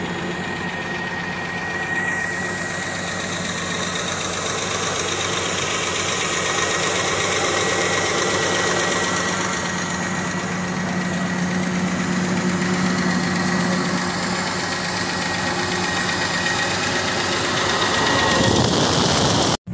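A Ford Falcon engine with a freshly replaced exhaust manifold gasket runs steadily at idle, a continuous close, even mechanical drone with a faint rhythmic knock and no talking.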